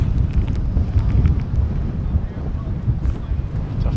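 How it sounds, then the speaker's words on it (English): Steady low wind rumbles and buffets across an outdoor microphone beside a DFW airport runway, a continuous dense roar with gusty swells and no clear pauses. "It's kind of blowing in the wind."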